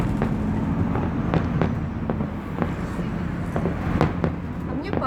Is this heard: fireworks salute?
yes